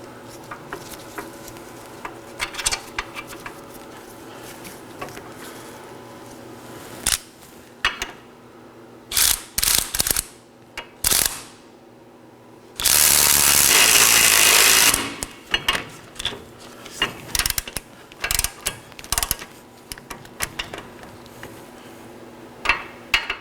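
Caliper bracket bolts being hand-threaded on a 2013-2019 Nissan Sentra during a front brake caliper job, scattered metallic clicks and rattles, then a brief loud whirring burst of a power tool, nearby.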